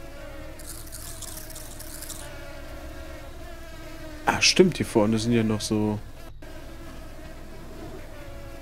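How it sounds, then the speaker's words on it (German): Mosquitoes buzz in the video game Supraland, a steady thin high whine that runs under the game ambience for the whole stretch, with a brief burst of speech in the middle. "Liebe Mücken."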